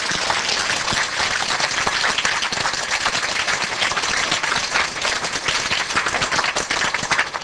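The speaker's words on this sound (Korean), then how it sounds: "이런 때는 박수 좀 쳐봐" Dense, sustained audience applause during a Korean revival sermon by a pastor, loud and continuous clapping from a crowd throughout, with no talking over it.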